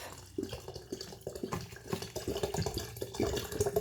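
Water pours from a tap into a container while preparing kefir, a steady splashing, gurgling fill rising in pitch as it runs continuously and close up.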